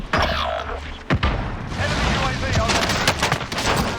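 Dual .357 magnum revolvers fire in Call of Duty: Warzone, loud close shots in a busy burst amid dense in-game battle noise, with a sharp crack standing out early.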